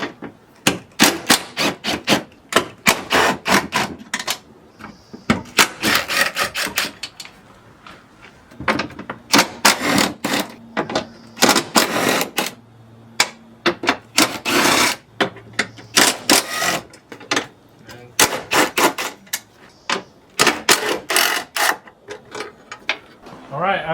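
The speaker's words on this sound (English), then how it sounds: "we're gonna be removing these 9 bolts using a 10mm socket" A 10mm socket ratchet removes bolts on a 2010-2015 Toyota Prius during spark plug replacement, giving bursts of rapid, close clicking repeated again and again over about twenty seconds, with short pauses between bolts.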